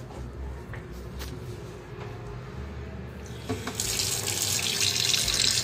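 Tap water runs steadily into a sink fitted with a new drain valve, starting softer and then swelling into a louder, continuous splashing rush.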